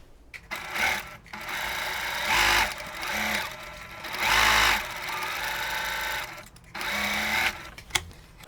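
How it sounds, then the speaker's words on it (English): A sewing machine stitching a fabric piece onto a Christmas tree quilt block, running in several bursts of rapid mechanical whirring separated by short pauses. "Now I'm sewing the fabric F piece to the lower block."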